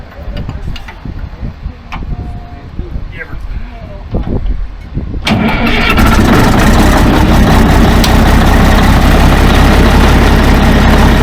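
International TD25C turbo dozer diesel engine cranking and then catching, jumping to a loud, steady, rumbling idle that fills the rest of the clip, with people talking nearby.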